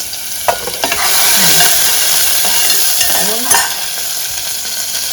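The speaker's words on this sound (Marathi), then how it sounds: "ते तेल मी तापत ठेवलं आहे आता त्याच्यामध्ये कांदा घालते चांगला आपण कांदा हा परतून घेऊया" Onion sautés in hot oil in a Konkan home kitchen with a close, loud, continuous sizzle and hiss, broken by a few stirring clinks and scrapes.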